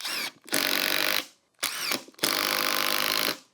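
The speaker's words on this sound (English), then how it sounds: "This is an 18-volt drill." An 18-volt Bosch cordless drill whirs in two long bursts while driving screws, each preceded by a brief spin-up, the motor loud and close with pauses between.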